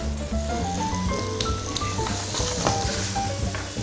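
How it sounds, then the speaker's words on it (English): Prawns with beer and lemon sizzle loudly and steadily in a pan for shrimp tacos, a dense continuous frying hiss close up with occasional stirring, no voices. "You need to have enough sort of room in the pan to make sure all the prawns get a chance to cook."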